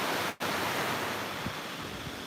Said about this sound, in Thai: ตอนนี้อยู่ริมทะเลกันนะครับ